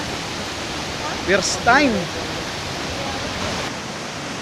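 Mother Falls, a waterfall near Baler, roars as a constant, loud wash of falling water throughout, while a person speaks briefly over it near the middle.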